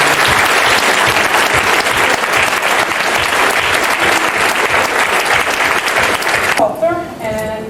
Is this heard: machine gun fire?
no